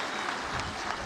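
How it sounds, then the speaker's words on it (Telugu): An audience at a public welfare event with Chief Minister Chandrababu in Peddannavaripalle village applauds. The clapping is loud, dense and steady, with no talking over it. "గట్టిగా చప్పట్లు కొట్టి ఆయన అభినందించండి"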